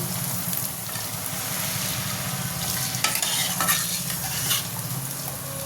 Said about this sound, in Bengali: মশলাটাকে ভালো করে কষিয়ে নিই কষানো হয়ে গেছে এবার এতে দিয়ে দেবো জল